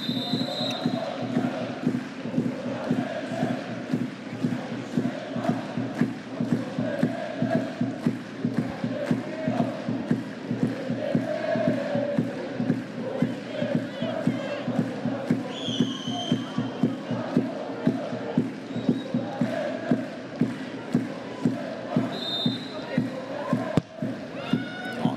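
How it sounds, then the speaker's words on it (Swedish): A football crowd at a women's Champions League match between BK Häcken and Lyon chants and cheers in the rain, with a steady, rhythmic clapping beat throughout and a commentator speaking over it. "Fortsätter att regna här, men publiken gör sitt för att stötta Häcken."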